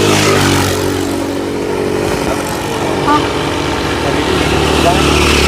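A motorcycle engine rumbles close by on a street and drones steadily as it passes, with nearby voices talking over the noise.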